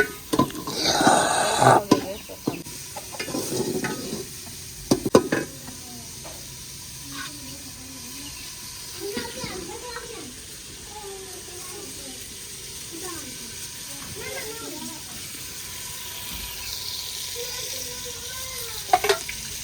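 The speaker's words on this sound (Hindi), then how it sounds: "मिसाला चिकन के लिए भुना जा रहा है।" Masala roasting in a pan for chicken during village-style iftar cooking: a steady sizzle with a few sharp stirring scrapes early on, then quieter frying under faint voices talking.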